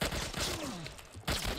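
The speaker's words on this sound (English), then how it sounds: "Shoot the gun, Joel" Gunfire in the video game The Last of Us Part 1: a short burst of loud, dense shots in quick succession, heard close, with a gap and a second loud blast near the end.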